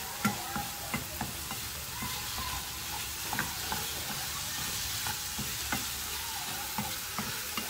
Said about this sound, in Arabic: نحركو باش ما يتحرقش لينا